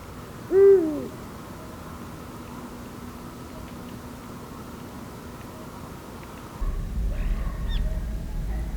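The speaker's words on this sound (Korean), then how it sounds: "밤의 제왕 수리부엉이가 짝을 찾는 소리였습니다." A single deep hoot from a male Eurasian eagle-owl calling for a mate at night at Suncheon Bay rings out clearly near the start, then only a steady low ambient hum continues.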